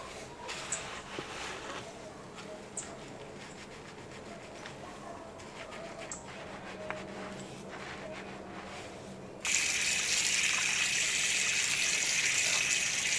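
Running water rinses shampoo out of hair: a low background murmur gives way to a sudden, loud, steady rush of flowing water that continues to the end.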